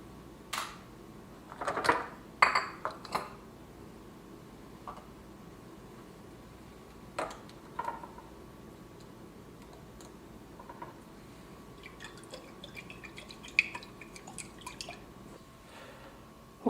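Hand gel poured through a funnel into a pump bottle, with soft wet drips, squishes and small plastic ticks arriving in irregular bursts, close and quiet, and no talking.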